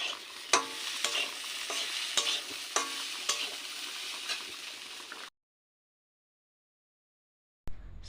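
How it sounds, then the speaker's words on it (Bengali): Beans and potatoes frying in a pan give a close, steady sizzle broken by sharp stirring scrapes and clicks, then cut off into silence before a brief return. "তো এইখানে বিন আলু ভাজা হচ্ছে।"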